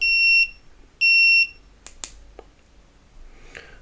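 A Blinxi scooter turn signal indicator gives two loud, steady electronic beeps, about half a second each and evenly spaced, followed by a few soft clicks and handling noises.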